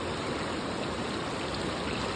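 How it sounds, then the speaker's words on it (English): Stream water flows over mossy rocks in a loud, steady rush that is close and continuous. No voices are heard. "how much will they be shaved off or changed from water flowing over them?"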